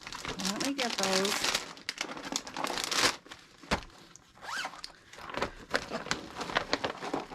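Plastic bags crinkle and rustle loudly in bursts as leftover quilting fabric pieces are handled, with someone talking throughout.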